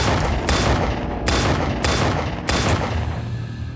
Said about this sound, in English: She fired off 5 shots.